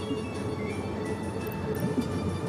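A gravel dumper train in Workers & Resources: Soviet Republic rumbles along the track, a steady low rolling drone with faint rhythmic clatter heard at a moderate distance.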